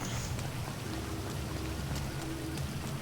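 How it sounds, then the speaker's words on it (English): Rain falls steadily in the video game GTA Online as a soft, even hiss that carries on without a break and stays fairly quiet. "I like this rain."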